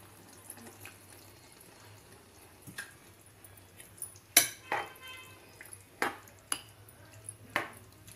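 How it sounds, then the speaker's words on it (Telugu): Water goes into a pot of simmering vegetable curry, with soft splashing and a few sharp clinks of a utensil against the pot, fairly quiet and close. "ఇప్పుడు మనం కొంచెం వాటర్ వేసుకున్నాం"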